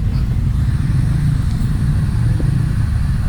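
Congested street traffic idles at a city stoplight, a loud, steady low rumble of car and motorcycle engines close by with no clear individual vehicle standing out.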